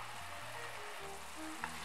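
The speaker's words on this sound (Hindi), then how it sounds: "चीनी में भी उबाल आ गया है" Sugar syrup boiling in a pan on the stove, a faint, steady bubbling and sizzling hiss heard alone and close.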